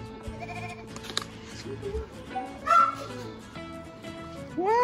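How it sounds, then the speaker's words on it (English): Goats at a petting zoo bleating several times, short wavering cries near and far amid a busy outdoor background with faint voices. "Oh, I can see the goat."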